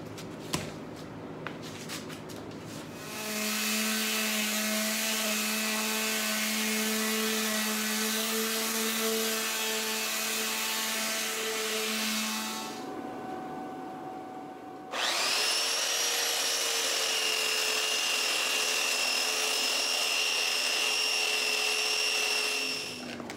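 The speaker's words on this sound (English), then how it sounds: "I went for the belt sander. It was just, it just does a faster job of taking out really unevenness." A loud belt sander motor whines steadily for about ten seconds sanding wood, stops briefly, then restarts at a higher, harsher pitch and runs continuously to the end.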